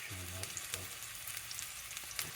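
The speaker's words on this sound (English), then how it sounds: "I'm gonna put them on the, frying pan and let them fry up a little bit here" Sicilian Calabrese sausages fry in a pan with a steady, close sizzle, broken by a few brief clatters early on and no talking.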